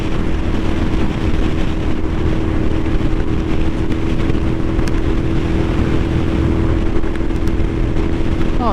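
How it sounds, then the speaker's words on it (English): A small V-twin motorcycle engine drones steadily while being ridden, loud and continuous with constant wind rush over the microphone and no pauses. "Love a little V-twin"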